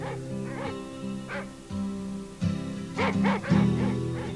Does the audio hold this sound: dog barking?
yes